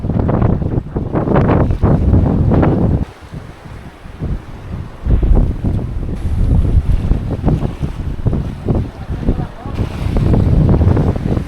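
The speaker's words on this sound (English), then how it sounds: "Sailing through a fairly tight channel." Sailboat moving through a narrow channel in the Gulf of Corinth, with heavy wind buffeting the microphone and water rushing along the hull in loud, gusty bursts, and voices faintly beneath.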